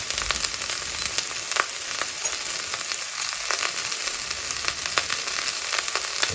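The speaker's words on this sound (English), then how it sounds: "browning the veggies, is really important to get all that flavor out" Onions and vegetables sizzle and brown in a pan, with a steady crackling fry and occasional stirring clicks, close and continuous.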